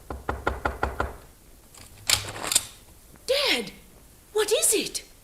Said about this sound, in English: Then he stumbled to the door of Joy's room and knocked.